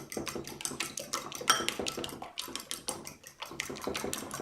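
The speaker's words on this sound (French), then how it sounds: "je récupère mes œufs, ok? Et je viens les battre" Rapid, steady clinking of a utensil beating whole eggs in a bowl for a cake batter, close up and continuous, with no voices.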